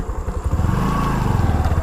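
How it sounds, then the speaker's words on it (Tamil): A geared motorcycle pulls away as the clutch is let out lightly after a U-turn, its engine note rising into a steady, close, throbbing mid-pitched drone. "கிளச்சை லைட்டாக ரிலீஸ் பண்ண பைக் போயிடுச்சு."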